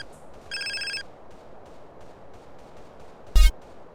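Phone in the video game GTA San Andreas ringing with a short electronic trill burst, followed moments later by a sharp loud bang over quiet ambient game noise.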